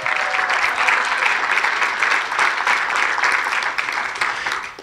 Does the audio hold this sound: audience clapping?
yes